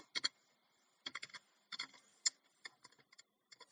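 Keys on a computer keyboard are pressed in short, uneven bursts as a name is typed into a browser, a faint sequence of close, crisp clicks separated by brief silences.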